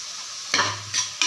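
Ripe tomatoes drop into a hot pan for vada curry and are stirred, giving a soft steady sizzle broken by three short bursts of stirring and scraping, close and fairly quiet with no voices.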